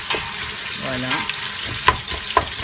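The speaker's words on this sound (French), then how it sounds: "je viens casser mes oignons dans ma casserole" Onions frying in a cooking pot for msouki, a steady close sizzle with stirring scrapes and small clinks, as a voice briefly speaks.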